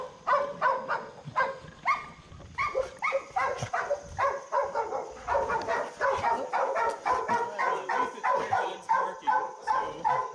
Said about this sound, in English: that is the friendliest dog